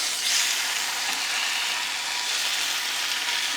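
Tuna steak sizzles loudly in a frying pan as it is flipped, a steady bright hiss running throughout with a brief louder burst near the start.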